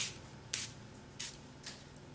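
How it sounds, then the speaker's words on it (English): Small water mister spritzing lightly over Emerald Envy on a craft card, four quick close pumps of fine airy spray spaced unevenly, over a quiet room. "I'm using my little mister and I'm going to spray it away from here."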